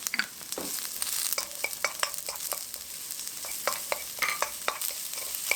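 Green onion stir-frying in cooking oil over medium heat in a pan: a steady close sizzle with irregular scraping and tapping from a utensil stirring the pan, and no talking.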